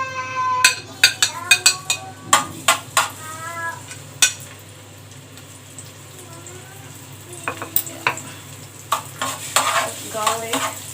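Garlic frying in oil in a pan for macaroni bechamel, with a soft sizzle under close clinks and scrapes of a utensil stirring, in irregular bursts separated by a quieter stretch.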